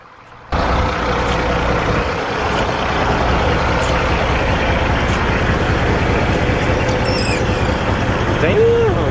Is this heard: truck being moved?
yes